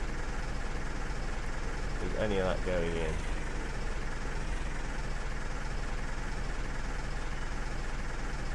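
Massey tractor engine idling in Farming Simulator, a steady low rumbling drone that holds evenly throughout, with someone speaking briefly over it partway through.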